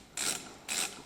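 Two short scraping clicks from plastic retaining clips being loosened on an automatic transmission's circuit board in a Mercedes-Benz 722.6 five-speed gearbox, close and isolated.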